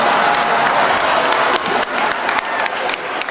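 Audience applause fills a Richmond mayoral candidate forum at a community venue in 2016, a dense steady wash of clapping from many hands that holds loud throughout and eases slightly toward the end.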